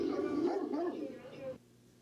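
A dog vocalizes in an old home video recorded in a living room, giving a short run of whining, yelping sounds close by that end abruptly after about a second and a half.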